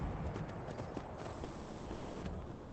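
Horse hooves clip-clopping in a steady, even rhythm while riding in Skyrim, continuous and fairly close over low game ambience with no talk.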